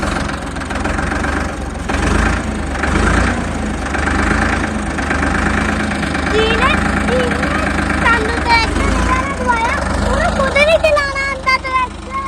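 A New Holland 3600 tractor engine runs at a steady idle with a low rumbling knock throughout, close by, while people talk over it and birds chirp in the background.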